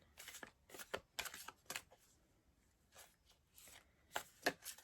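A deck of cards being shuffled by hand, several quick riffling bursts separated by short pauses, close and fairly quiet with no talking.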